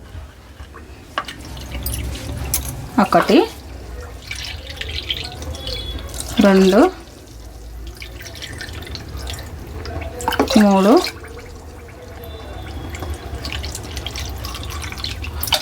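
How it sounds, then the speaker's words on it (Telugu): Water is poured into a cooking pot one measured cup at a time while making sorghum gatka porridge: three separate splashing pours, each a couple of seconds long, with a voice counting between them. "మనం ఇప్పుడు 4 గిన్నెల నీళ్ళు పోయాలి"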